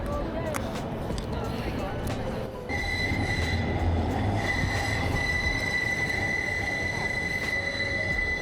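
A tram rolls along the rails in Birmingham with a sustained high metallic squeal over a steady low rumble, loud and close throughout.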